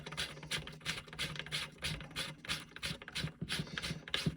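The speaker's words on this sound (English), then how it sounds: "Take the nut and thread it on." A metal nut is threaded by hand onto a Citadel PAT 12 gauge shotgun, giving a quiet, rapid run of scratchy ratcheting clicks at close range.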